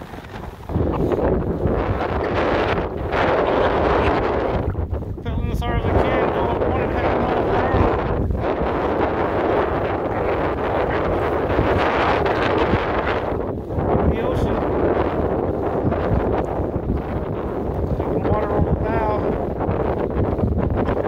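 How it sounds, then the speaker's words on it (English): Strong wind gusts of about 20 mph over a whitecapped lake roar and buffet the microphone almost continuously, with brief lulls between heavy blasts. "Got like 20 mile per hour gusts right now, white capping on the whole lake"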